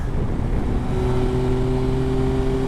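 A 2024 Yamaha Tracer 9 GT+ motorcycle in sport mode leans through a big bend, its engine droning steadily under heavy rushing wind noise, holding a constant tone throughout.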